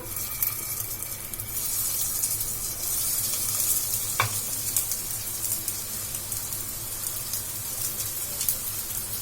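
Milk-soaked bread slices fry in ghee in a pan over a medium flame, giving a steady, close, busy sizzle with fine crackling throughout and one brief louder pop partway through.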